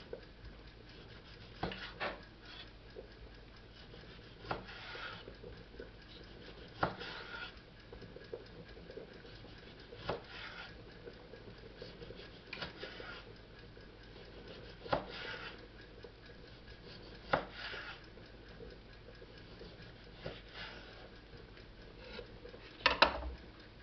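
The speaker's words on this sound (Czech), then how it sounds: "Teď budu krájet ta rajčátka." Kitchen knife cutting tomatoes into rounds on a board for tomato open sandwiches, a steady series of soft, quiet chopping taps spaced a few seconds apart, with faint clinks in between.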